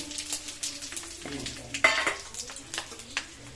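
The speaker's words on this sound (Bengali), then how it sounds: "প্রচণ্ড গরম ছিটে আসলো মানে লঙ্কাটা ছিটে আসলো" Dried red chilies, whole bay leaves and a Bengali five-spice mix of cumin, fennel and mustard seeds crackle and splutter in hot oil in a home kitchen pan, a busy sizzle with sharp pops and a loud burst near the middle, no voices.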